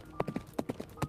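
An army's horses trot in a quick rhythmic clip-clop, hooves striking in close clusters of beats, moderately near with a faint tonal hum behind.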